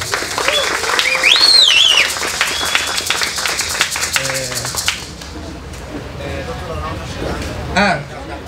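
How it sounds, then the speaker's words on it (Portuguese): Brief burst of audience applause at an Indigenous rights panel session, clapping for about five seconds alongside a voice, then fading into quieter room sound with speech. "Palmas."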